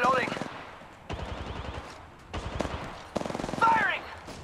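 Automatic weapon fire in the battle royale shooter Apex Legends, in several rapid rattling bursts separated by short pauses, loud and close, mixed with a character's voice.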